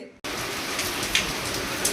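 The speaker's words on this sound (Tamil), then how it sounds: "மழை வேறு பயங்கரமாக பெய்யுது" Heavy rain near a deep forest starts abruptly and keeps pouring in a dense, steady roar with a few louder drops close by.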